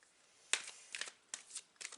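Tarot cards shuffle softly in a few brief bursts, each starting with a light snap and a flutter, quiet and close.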